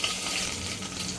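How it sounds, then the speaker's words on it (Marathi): Curry leaves frying in hot ghee with cumin, a brief, dense, close sizzle holding steady at moderate loudness. "आता ह्याच्यात मी हा कढीपत्ता घालते"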